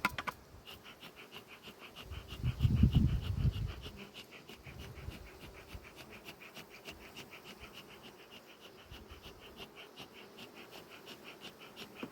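Steady buzzing of many honey bees during sunflower honey extraction, a continuous droning hum close by with a brief louder rumble partway through.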